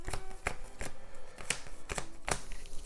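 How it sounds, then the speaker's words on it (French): A hand of playing cards is shuffled during a Marvel Legendary deck-building card game, giving a run of crisp riffles that repeat about every half second, close and loud with no talk. "On va brasser un peu ma main ici"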